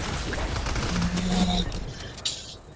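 Gunfire in the video game Fortnite: a dense, steady barrage of rapid shots rattling on for a few seconds, fairly loud and continuous.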